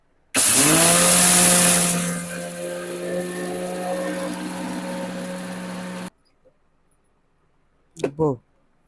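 A mixer grinder whirs loudly as it grinds fenugreek seeds into powder for mango pickle, starting with a harsh high burst that settles into a steady motor drone, then stopping abruptly before a brief clatter.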